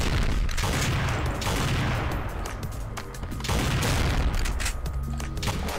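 Shotgun blasts in a video game, loud repeated booming shots packed close together over a noisy, continuous din of combat.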